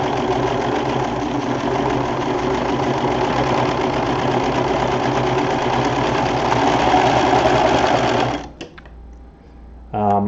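A sewing machine stitches along the edges of webbing, running in one steady, loud mechanical whir for about eight seconds, then stopping abruptly before a brief restart at the very end.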